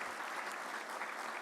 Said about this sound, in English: Can we give him a round of applause for his hard work and his dedication?